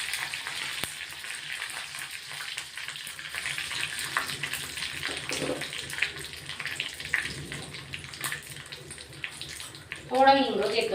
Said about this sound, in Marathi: 1 चमचा मोहरी.